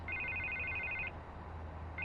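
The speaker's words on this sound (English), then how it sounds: "I can't get the phone to stop ringing." A telephone rings with a bright electronic trill, one long burst followed by a pause and the start of the next ring, heard on its own in a quiet room.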